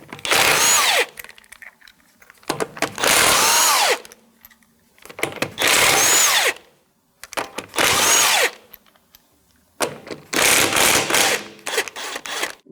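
Bursts from an impact-style power tool spin off the lug nuts with a 19mm socket on a 2007-2017 Jeep Compass, five loud buzzing runs separated by brief pauses.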